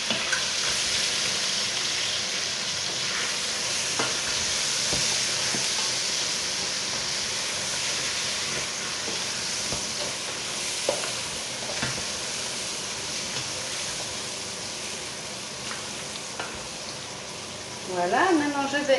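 Rabbit pieces with spices are stirred in hot oil, a steady low sizzle under scattered scraping clinks from the utensil, with a louder scrape near the end.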